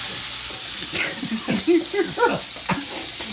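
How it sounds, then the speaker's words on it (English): Onions for loose meat sandwiches frying in a pan, a steady bright sizzle with stirring scrapes and soft knocks as they are moved around, close and clear, with a voice faintly present at times. "You want to cook down your onions slightly until they're translucent"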